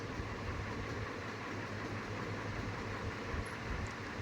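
A continuous rumble and clatter of a train rolling past, steady and fairly distant.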